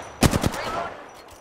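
A short burst of rapid automatic gunfire in Apex Legends, three or four loud, close shots in quick succession followed by a fading ringing tail, with no voices.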